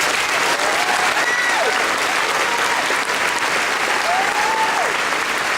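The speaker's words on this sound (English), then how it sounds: "So another round of applause." Sustained applause from a large crowd at Michelle Obama's campaign speech in Fort Wayne, Indiana, a steady dense wash of clapping filling the whole stretch at full volume.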